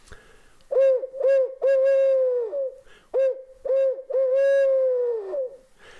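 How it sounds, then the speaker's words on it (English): Owl hoots blown on a Primos hoot flute used as a turkey-hunting locator call, a series of loud, close hoots in two phrases, with short notes leading into long drawn-out calls and no talking. "So an owl call is just something like this. This is a basic one from Primos. It's called the hoot flute."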